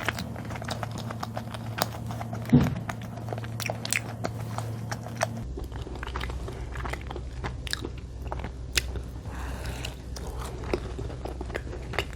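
Someone bites into a milk cream donut and chews it close up, with a sharp bite followed by soft, repeated chewing and light crunching.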